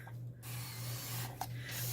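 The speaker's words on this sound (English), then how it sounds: "I'm sorry, Zeus, I know you don't like the alcohol spray, huh?" A spray bottle of alcohol hisses in a few brief bursts near a pet turtle's enclosure. The sprays are quiet and close, over a steady low hum.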